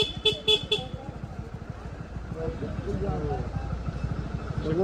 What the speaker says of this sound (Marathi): आम्हाला ट्रॅफिक फुल जाम.